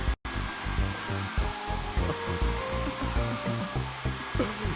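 A hair dryer in a video game gives off a continuous whirring drone that is broken into uneven pulses, with a brief cut to silence near the start.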